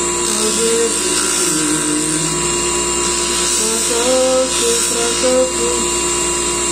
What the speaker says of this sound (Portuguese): a gente faz o polimento dos locais onde tem furo